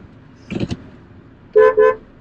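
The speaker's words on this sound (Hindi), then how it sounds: "ये देखिए यहाँ पर आपको वार्निंग मिली और ऑटोमेटिकली गाड़ी ने ब्रेक भी किया" Rear cross-traffic collision warning chime in a Hyundai Tucson while reversing, sounding as two clear, loud tonal beeps in close succession after a brief muffled thump, with no talk over them.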